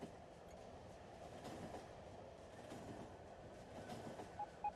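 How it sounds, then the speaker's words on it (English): Train ride in Factorio on a sulfuric acid train, sitting in the back car: a very faint, steady rolling rumble with soft clickety-clack and no talk. "let's hop on the sulfuric acid train. We'll get in the back car."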